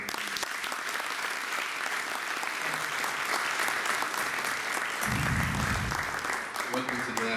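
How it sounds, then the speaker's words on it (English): Sustained applause from an audience at an investment club event, steady dense clapping throughout with a voice speaking over it near the end. "So, huge round of applause."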